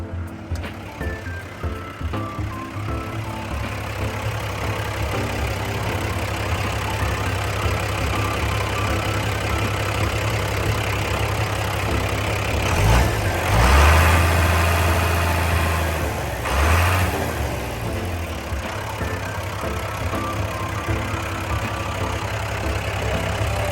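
A Komatsu WA200-1 wheel loader's diesel engine idles steadily with a deep low rumble, briefly revving up twice before settling back to idle.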